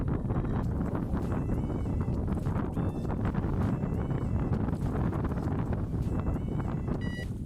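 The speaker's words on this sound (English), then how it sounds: "So the wind was so bad that literally the rods were bending in their rod rests." Strong wind buffeting the microphone at a lake during a spring carp fishing session, a constant loud rumbling roar with gusty surges and faint high whistling tones, and no one speaking.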